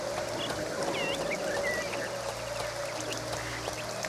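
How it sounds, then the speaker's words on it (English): Rain patters steadily in the fantasy game Two Worlds, a constant watery hiss with a few bird calls scattered above it and no talking. "What, rain?"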